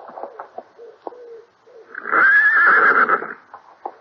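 A horse whinnies loudly and close for about a second and a half after an early morning ride, preceded and followed by scattered soft knocks and shuffles around the stable.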